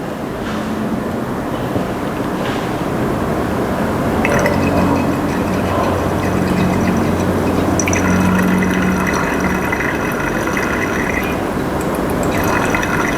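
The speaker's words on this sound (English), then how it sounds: "Then add in 10 cm3 of your Fa4 from the burette." Liquid from a burette running into a flask during an iodine clock kinetics experiment, a steady trickling and filling sound that stays moderately loud and close for the whole stretch.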